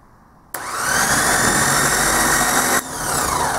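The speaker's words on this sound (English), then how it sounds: "that sound is a lot slower, a lot weaker, which tells us it's a 24 volt starter." Bosch 230/231 series 24 volt reduction gear truck starter motor spinning on a bench, a steady loud whirring hum that starts abruptly and shifts slightly in tone near the end, with no talk.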